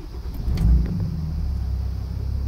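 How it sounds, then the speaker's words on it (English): A Dodge Ram with a 68RFE transmission cranks and starts, a short burst as it catches, then settles into a steady, deep idle rumble. "so let's start the engine."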